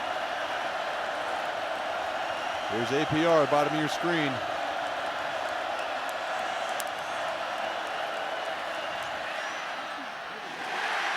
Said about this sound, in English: Crowd's on their feet.